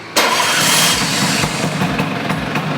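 A Vespa New PX two-stroke scooter engine catches abruptly and settles into a loud, close, rattly idle with a few small revs, no talking.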